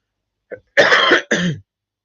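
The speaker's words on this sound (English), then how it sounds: "I've got this nasty little chesty cough back." A close, loud chesty cough: a short catch followed by two harsh, rattly coughing bursts.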